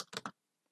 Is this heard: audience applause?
no